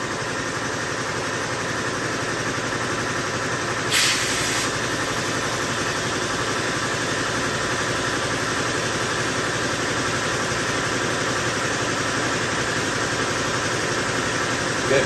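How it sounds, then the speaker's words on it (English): Air compressor line blowing air through an open valve stem to reseat the tire bead on a Volkswagen Beetle wheel, a steady loud hiss and hum running continuously, with a brief sharper burst partway through. "you just use the open end of the air compressor"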